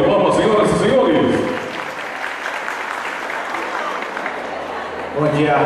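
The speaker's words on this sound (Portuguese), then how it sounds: "Uma forte salva de palmas, senhoras e senhores." Audience applause at a municipal teachers' pedagogical conference opening in Serrinha, a loud, dense roar of clapping that eases after a couple of seconds and then swells again, with voices mixed in.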